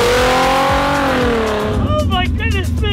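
A Pagani Zonda S600 with a raspy, straight-pipe tone revs loudly up close, its pitch climbing and then dropping off into rough burbling, with a voice speaking over it.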